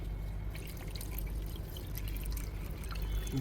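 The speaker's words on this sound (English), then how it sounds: "I'll be putting water into the radiator to see if it holds." Water pours and splashes steadily into a Toyota Camry's radiator, a continuous gurgling trickle at moderate volume with no voices.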